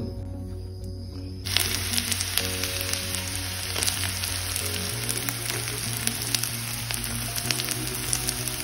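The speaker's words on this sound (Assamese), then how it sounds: "ভজা ভাতৰ কাৰণে তেল গৰম হৈ গ'ল" Oil heating in a pan for fried rice bursts into a loud, steady sizzle after a quieter opening, crackling continuously up close with no voices.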